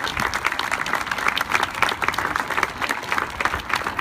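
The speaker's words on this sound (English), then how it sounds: "Let's give him another round of applause" An audience at a signing ceremony for the Sioux Falls rail yard purchase breaks into sustained applause, many hands clapping steadily at moderate distance for the whole stretch.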